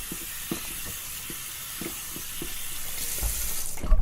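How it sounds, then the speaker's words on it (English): Cold tap water runs in a steady, close hiss as a shaving razor is rinsed, with soft knocks of the blade against the sink, then the flow grows louder near the end. "cold water rinse."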